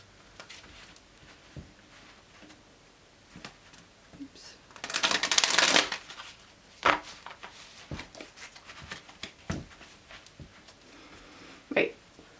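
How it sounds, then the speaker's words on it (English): Tarot cards from the Good Tarot deck by Colette Baron Reid are shuffled by hand. One clear riffling burst rises above scattered soft taps and light handling noises, heard close up in a quiet room. "one more shuffle."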